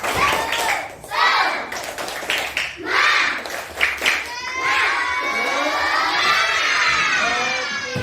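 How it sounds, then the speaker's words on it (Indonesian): Children in a classroom clap a rhythmic chant, with sharp bursts of clapping and excited shouting followed by a sustained cheer of young voices, all close and loud. "Oke, tepuk tangan. Tepuk semangat."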